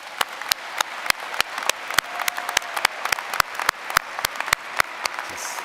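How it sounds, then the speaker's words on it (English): Hand claps ring out in a fairly steady rhythm, sharp and close, with a faint murmur of a few other people clapping behind, at a college commencement ceremony. "Can we have another round of applause?"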